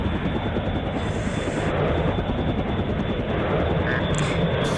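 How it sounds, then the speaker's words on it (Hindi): Several helicopters fly in a fighter plane combat video game, a dense, steady rotor and engine roar that fills the whole stretch with no voices. "यहाँ पे कई सारे हेलीकॉप्टर हैं जो एक एक करके उड़ाएगा।"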